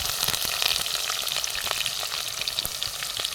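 Onions fry in a pan of hot oil, giving a continuous close sizzle with scattered crackles and pops throughout and no talking.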